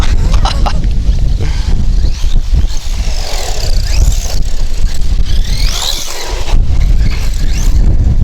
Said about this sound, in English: this wind's pretty bad today